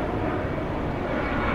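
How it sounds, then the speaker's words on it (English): An airplane passes overhead near LaGuardia Airport above a park in Queens, New York, giving a steady, loud broadband roar with no break. "There should be plenty of planes flying overhead today."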